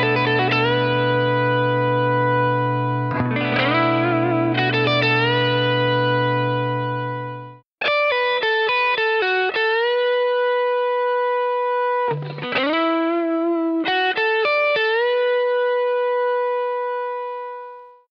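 Electric guitar run through effects plays pentatonic phrases of sustained, bright notes that bend upward in pitch, with a long held chord, a short break, then clusters of picked notes and bends ringing out.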